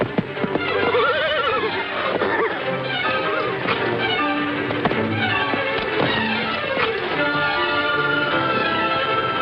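A horse neighs and whinnies repeatedly over clopping hooves and taps in an old Western drama, the calls rising and falling against a busy, steady background.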